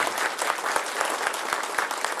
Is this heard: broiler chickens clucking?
no